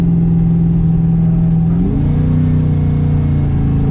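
A Chevy box car's engine pulling hard in high gear, a loud, continuous close-up drone whose pitch dips and then settles at a new steady tone partway through, with no speech.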